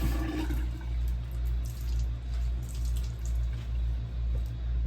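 Running water pours steadily from a tap onto the corner of a clean towel, a close, even rushing with a slow rhythmic pulse underneath and no talking.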